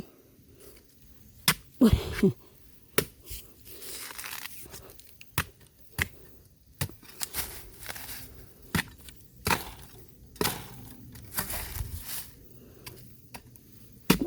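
Bamboo shoots chopped with a knife outdoors, a run of sharp, woody thwacks and splintering cracks at an irregular pace, close and fairly loud, with rustling and tearing between strikes and no voices.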